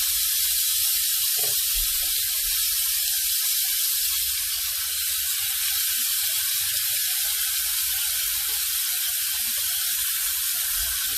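Skirt steak sizzling loudly in a hot pan just after being flipped, a steady close-up hiss and crackle running unbroken throughout with a few faint low bumps beneath.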